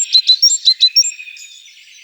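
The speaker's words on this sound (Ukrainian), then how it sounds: "Так, пташка співає дзвінко, мелодійно." A small bird sings a bright, ringing phrase of about six quick, evenly spaced high notes, then trails off into softer twittering, close and clear.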